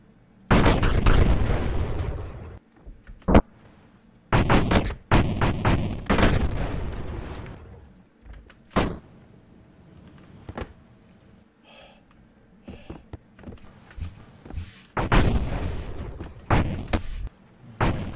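Loud, close booming bursts from a bomb exploding just behind the player in the video game Karlson, several heavy blasts in irregular clusters with brief gaps and quieter stretches between.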